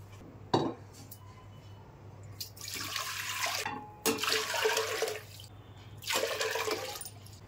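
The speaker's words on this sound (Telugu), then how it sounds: "నీళ్ళు పోస్తాను." Water poured into a pot in a home kitchen, heard as three separate splashing pours of a few seconds each, with quiet pauses between them and faint clinks of utensils.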